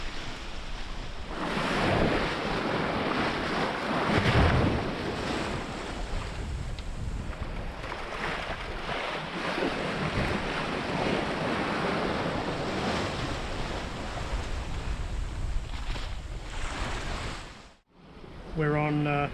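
A sailboat heading from Croker Island toward Alcaro Bay cuts through the sea against a strong tide, with continuous rushing wind and water splashing around the hull that briefly dips near the end before surging back.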